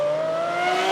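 A Lamborghini Aventador S Roadster's engine pulls hard under acceleration, its steady high-pitched tone climbing evenly and staying loud and close throughout, with no talk over it.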